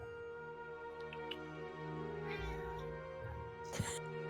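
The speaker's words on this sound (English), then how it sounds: "I've got my cat right here, and she's wanting attention." A house cat meows for attention indoors, with a few drawn-out tonal cries rising near the end, close and clear over a steady low hum.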